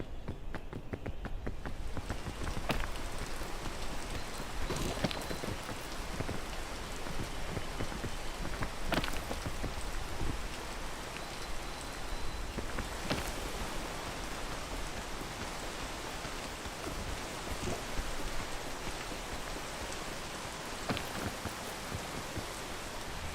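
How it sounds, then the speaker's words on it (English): Steady rain falls throughout on a mountain peak hike, a dense even hiss of drops striking nearby surfaces, with a faint low rumble beneath and no talking. "Great time to start raining."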